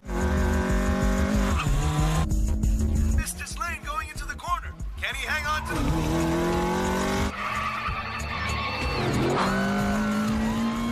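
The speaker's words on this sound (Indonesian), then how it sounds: "Toyota E86 milik Takumi berhasil finish terlebih dahulu" A Toyota AE86 races through a film chase: tires squeal loudly and repeatedly, with several long skids swooping in pitch over a roaring engine. Dramatic music plays underneath throughout.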